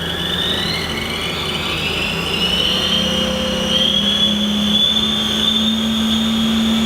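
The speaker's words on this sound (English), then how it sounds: "We're gonna do a gear change. That's 2000 RPM." A Haas VF6 50 vertical machining center with a Cat 50 two-speed gearbox runs its spindle at 2000 RPM after a gear change, giving a steady, sustained whine with high tonal lines that rise slightly, loud and continuous throughout.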